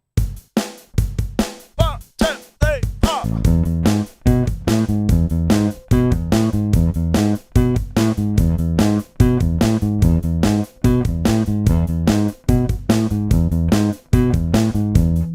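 After a spoken count-in, a bass guitar plays a steady picked pattern of repeating low notes, with occasional gaps where notes are skipped.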